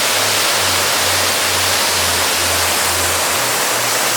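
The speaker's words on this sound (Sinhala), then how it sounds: "ඒ ඇල්ල තමයි මේ ඔබලා දකින්නේ." Surathalee Ella waterfall near Balangoda, Sri Lanka, flows as a loud, steady, broadband rush of water that fills the whole clip, heard close with a faint low hum underneath.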